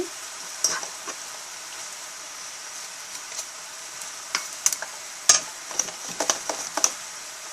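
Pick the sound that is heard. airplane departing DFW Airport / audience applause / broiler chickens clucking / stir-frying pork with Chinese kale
stir-frying pork with Chinese kale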